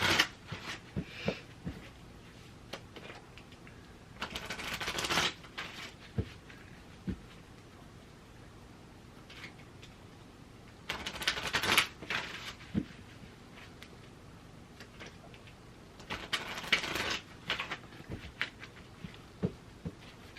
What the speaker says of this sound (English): Need a little table to shuffle on.